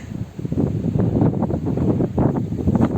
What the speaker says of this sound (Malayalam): കാറ്റ് വരുമ്പോൾ ഇരിക്കണം അല്ലെങ്കിൽ പറന്നു പോകും